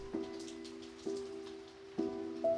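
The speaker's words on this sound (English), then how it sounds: "the rain was falling in its rhythmic pattern" Steady rain falls with a soft continuous patter, while resonant plinking drops land in a slow, regular rhythm about once a second, fairly quiet and close, with no voices.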